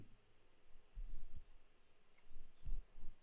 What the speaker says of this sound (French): je joue avec les flèches haut et bas sur le clavier